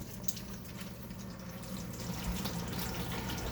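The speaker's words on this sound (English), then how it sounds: "I'm pouring it into a colander," Oil being drained from a jardiniere, poured through a colander into a bucket, gives a steady, close liquid pour and splatter that continues without a break and swells slightly toward the end, with no talking.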